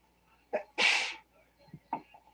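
A single sharp sneeze bursts out, loud and close, followed by a few faint vocal sounds.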